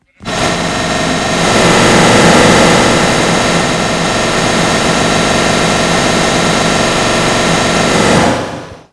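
A modded airplane in Minecraft flies with a loud, continuous engine drone. It holds steady for several seconds before cutting off abruptly, and no voices are heard.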